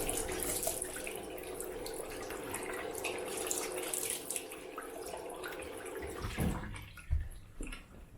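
Water runs steadily from a tap to rinse a Merkur 37c slant razor while shaving with Arko soap; a continuous splashing flow with a few louder splashes and knocks near the end, no speech.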